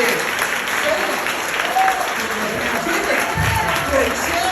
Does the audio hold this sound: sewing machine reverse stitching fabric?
no